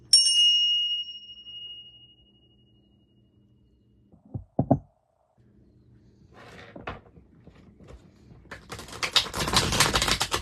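A small bell is struck once at the start of a card reading, giving a bright ringing tone that fades over about a second. Quiet pauses, handling knocks and louder rustling clatter follow.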